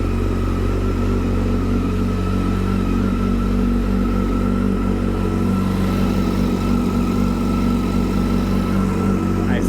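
A Yamaha FZ motorcycle engine idles steadily and loudly up close for the whole stretch, a continuous rumbling drone with a faint suspected fault noise after a repair attempt.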